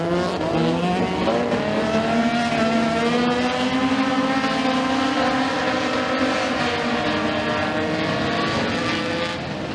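Race cars lap the oval at Stateline Speedway during heat races, a steady loud engine roar with rising and falling tones as the pack sweeps through the turns.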